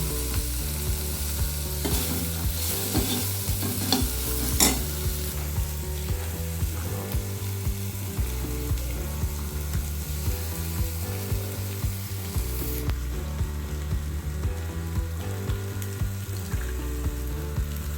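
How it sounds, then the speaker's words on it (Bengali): A little sugar fries in a small amount of oil while a spoon keeps stirring it, making a steady, close sizzle broken by regular scraping strokes, without any talking. "সামান্য তেলে একটু চিনি দিয়ে দিলাম। এই নাড়তে নাড়তে একটু ছেড়ে দেবো।"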